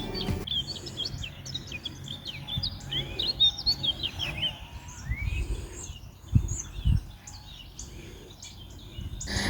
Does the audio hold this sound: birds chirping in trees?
yes